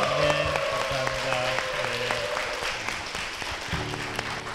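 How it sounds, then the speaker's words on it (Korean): Church congregation gives a hearty round of applause for the senior pastor and church during a Korean church broadcast, steady dense clapping from a crowd with music playing underneath. "힘찬 박수 부탁드리겠습니다"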